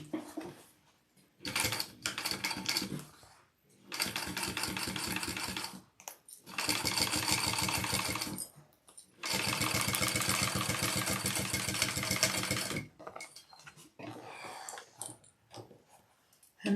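Sewing machine top-stitching a fabric bag, running in several bursts of rapid mechanical needle clatter, a few seconds each, separated by short pauses and quieter handling, close and moderately loud.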